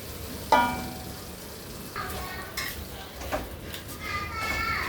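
Mushrooms with cashew paste frying in a pan, a soft steady sizzle broken by several clinks of a spoon against the pan, with a voice speaking over it.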